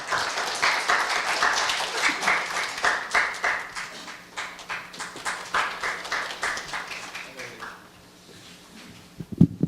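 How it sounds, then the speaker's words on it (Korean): An audience at a Korea University KU Pride Club health forum applauds to welcome a speaker to the stage, with steady, fairly loud clapping that rises and falls in waves before fading out, followed by a few scattered noises. "박수로 맞아주시기 바랍니다"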